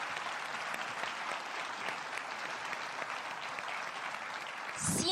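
An audience at a talk claps steadily and warmly for Mari and Oscar in a dense, sustained round of applause that continues through the whole stretch without speech.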